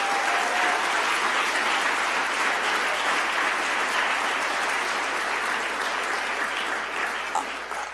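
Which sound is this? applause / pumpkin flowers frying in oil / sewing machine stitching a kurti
applause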